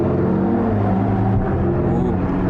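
An orange Mercedes passes by with a loud, steady engine rumble that stays strong and low throughout, close and dominant with no talk over it.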